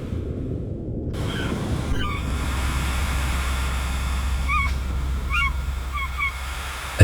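Several honking emperor penguin calls ring out in the distance in Antarctica, spaced a second or so apart, over a steady low rumble like wind.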